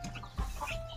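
Young chicks in a village yard cluck and peep while being fed paddy and rice, with soft overlapping calls and a brief thump, close and faint.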